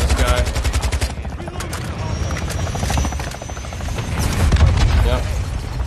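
In a video game, a helicopter's loud rotor chops close by while rapid bursts of gunfire crackle over it, with scattered booms.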